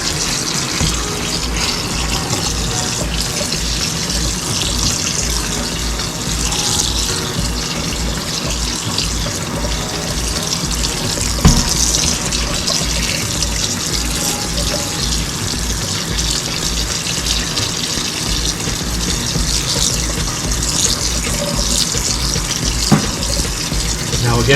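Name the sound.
cold tap water running over drained pasta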